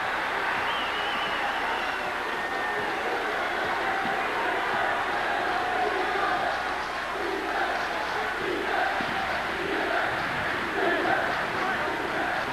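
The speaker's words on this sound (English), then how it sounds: "it brings the crowd at the Thunderdome back in it" A college basketball crowd at the Thunderdome during a 1991 UNLV at UCSB game roars and cheers steadily throughout, a broad sustained wash of voices with swells near the end, under faint commentary.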